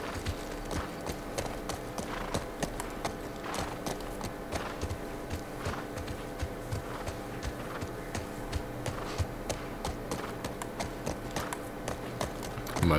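Horse hooves clip-clop at a fast, regular rhythm in The Last Of Us video game, a steady galloping beat, close and even throughout with no talking over it.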